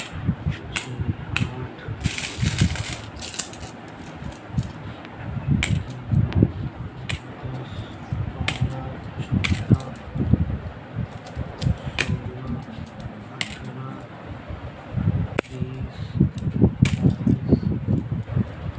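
Coins are counted by hand, giving repeated sharp metallic clinks and clatters at an irregular pace, close by, with intermittent talking and a steady fan-like hum underneath.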